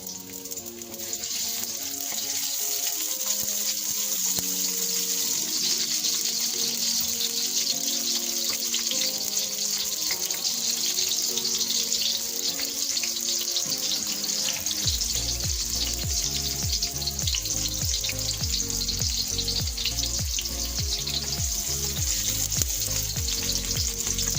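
Garlic and shallots frying for bihun give off a loud, steady sizzle that runs the whole time, with faint water and stirring noises mixed in and no voices.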